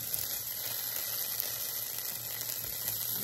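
Food sears in a hot pan over medium-high heat, a steady broadband sizzle with a faint low hum beneath, continuous and close throughout with no voices.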